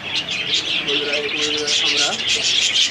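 Many birds chirping and tweeting at a busy bird market in Mirpur, with pigeons cooing low beneath the bright, constant chatter and people talking nearby.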